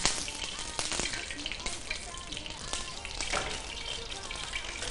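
Homemade cutlets or kebabs fry in oil in a kitchen, giving a continuous crackling sizzle with sharp spits and pops at close range.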